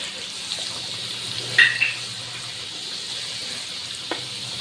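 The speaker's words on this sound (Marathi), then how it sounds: "त्याच्यामध्ये लसण घालूया." Garlic added to lightly heated oil with mustard seeds, made for a year-long mango pickle, gives a steady soft sizzle with a brief spatter of crackles near the middle and a small pop toward the end, with no voices.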